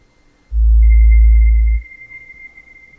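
A Nord Micro Modular synth sounds one deep, low-pass filtered bass note, loud and smooth, held for just over a second before cutting off, with a thin steady high whine continuing alone afterward.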